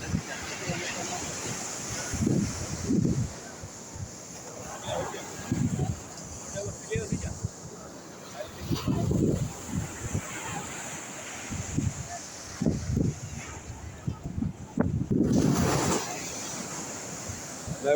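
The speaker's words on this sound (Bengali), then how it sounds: "এবার ঢেউটা কমছে মনে হচ্ছে" Ocean waves surging onto a beach with gusting wind buffeting the microphone, repeated swells rising and falling, heard under intermittent voices.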